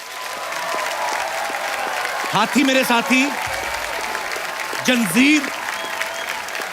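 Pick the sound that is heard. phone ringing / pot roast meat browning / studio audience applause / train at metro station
studio audience applause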